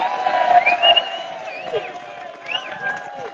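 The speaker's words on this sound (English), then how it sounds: "Let's have a round of applause for Anita Locke" A crowd at a political rally cheers and whoops in a moderately loud, continuous wash of voices.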